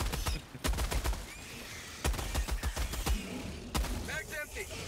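Rapid bursts of gunfire in the video game Helldivers 2, sharp repeated shots in quick rhythmic strings with brief gaps, loud and close, with a voice talking excitedly between them.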